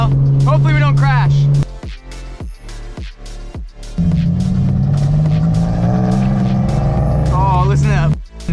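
Nissan 350Z with a welded differential and an angle kit drives hard, its engine revving up and down with squeals and chirps from the tires, close and loud, while a person speaks at moments.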